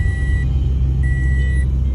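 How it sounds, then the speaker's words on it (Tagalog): Steady tonal warning chime inside a moving car with no seatbelts fastened, ringing in two long sustained tones over a loud, constant low road and engine rumble. "tumutunog na yung seatbelt kasi wala tayong seatbelt"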